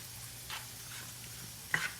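A spoon stirs and combines ingredients for a cheap quick dinner, giving a few soft, faint scraping and swishing strokes with a brief sharper clink near the end, and no talking.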